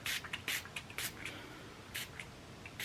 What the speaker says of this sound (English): So I just go and I just spray some on her fur